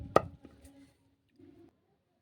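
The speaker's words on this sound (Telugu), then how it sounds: "నేను ఇందులోనే ఉల్లిగడ్డ కూడా వేసి దంచుతున్నాను" Onion is pounded in a mortar for cucumber chutney, with one sharp close thud followed by a few softer knocks and a brief grinding rustle.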